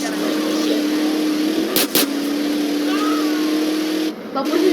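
GTA San Andreas car engine droning steadily at a constant pitch, with a brief break and a short dip near the end, while people talk over it.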